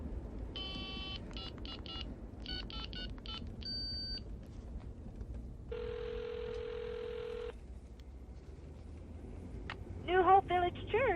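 A mobile phone has a number dialed on it, giving a run of short keypad tones, then a steady tone, then a brief electronic ringing burst, all under a faint background hum.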